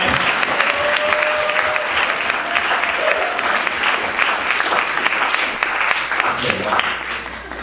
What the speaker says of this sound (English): Let's just keep the clapping going.